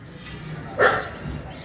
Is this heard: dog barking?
yes